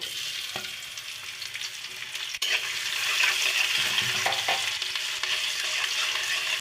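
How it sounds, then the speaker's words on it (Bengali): Chopped onions fry in hot oil in a wok for a fish curry with potato and drumsticks, a steady close sizzle that crackles on without pause, with no talking. "তেলটা গরম হয়ে গেছে এখন পেঁয়াজটা ভেজে নিব"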